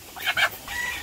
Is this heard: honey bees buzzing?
no